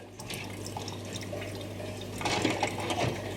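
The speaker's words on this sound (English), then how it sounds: "Now transfer the parts across to the second rinse." Clock parts from a Japanese 40-day wall clock, including plates and motion works, are moved through rinse water, giving a steady close-up watery sloshing and trickling that grows a little louder toward the end.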